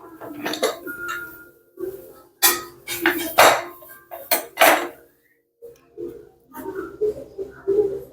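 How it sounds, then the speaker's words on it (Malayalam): Metal clanks and scrapes of a pressure cooker lid being handled and opened after the pressure has released, with ghee rice cooked inside; several sharp clatters with short pauses between, close by. "ഇനി നമുക്ക് കുക്കർ തുറന്നോക്കാം"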